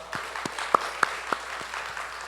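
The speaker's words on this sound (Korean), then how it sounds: "우리 감사하다고 박수하겠습니다" Sunday church congregation clapping in thanks for a family's first-birthday gift, a soft, sparse patter with a few sharper individual claps standing out over a low room murmur.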